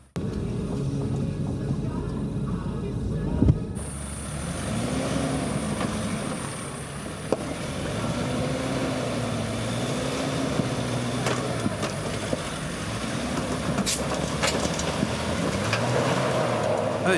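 A Datsun 4x4 grinds its engine through an off-road obstacle, a steady droning motor with wavering pitch as it stops, rolls back and pushes forward, with occasional knocks and clunks over the continuous rumble.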